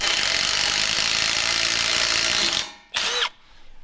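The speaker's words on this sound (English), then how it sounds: "Drilling some drainage holes so it doesn't turn into a big, as Robby called it, fishing bowl." A power drill bores drainage holes in the front end of an old Ford tow truck, whining steadily at close range for a couple of seconds before stopping, followed by one short second burst.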